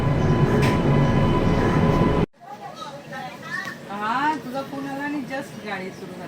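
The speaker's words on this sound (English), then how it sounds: "So our train has departed from Mumbai CSMT at the right time." A steady rumble of the Konark Express passenger train leaving Mumbai CSMT fills the start, then cuts to a quieter AC three-tier carriage interior with people talking.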